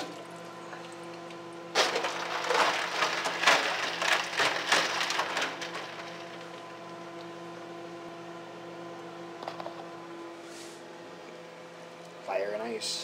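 Ice tumbles into hot homebrew IPA wort in a loud crackling, splashing burst lasting a few seconds, then fades to faint trickles and a quiet hum, with a brief voice near the end.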